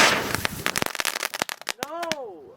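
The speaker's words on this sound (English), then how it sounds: "I lit some of these popping fireworks." Small popping firecrackers go off in a rapid, uneven string of sharp cracks, close and loud, followed by a short whistling firework that rises and falls in pitch.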